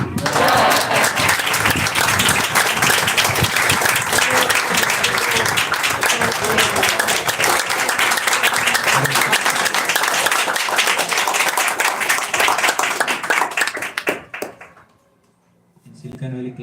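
Sustained applause from an audience at the close of a devotional talk on Krishna and the Bhagavad Gita, loud and dense for about fourteen seconds before dying away into near silence.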